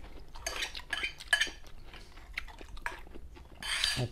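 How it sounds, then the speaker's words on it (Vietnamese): A metal spoon scrapes and clinks against the bottom of a bowl in a few short, close bursts with quiet pauses between them, and nobody speaks. "Cào vô cuối tô nghe nổi da gà luôn."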